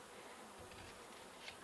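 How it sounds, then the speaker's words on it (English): Honey bees inside an opened horizontal beehive make a soft, continuous, close buzzing hum for a short moment. No one speaks. "There are bees in there."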